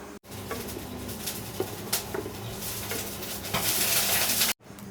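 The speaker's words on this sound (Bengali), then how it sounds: "মাছে দেওয়ার জন্য যে জিরা ভেজে নিতেছি" Cumin seeds frying in a pan on a gas stove, a dense crackling sizzle with scattered pops and scraping stirs, steady and close, swelling louder toward the end before cutting off.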